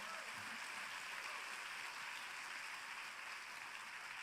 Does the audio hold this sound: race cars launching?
no